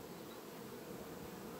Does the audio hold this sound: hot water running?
no